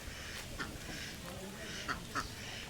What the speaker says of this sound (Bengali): গ্রামের মধ্যে কি সুন্দর হাঁস চড়ে বেড়াচ্ছে।